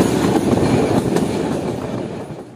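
The Pak Business Express passenger train runs along the rails, a steady close rumble of wheels and carriages that fades slightly toward the end, with no voices.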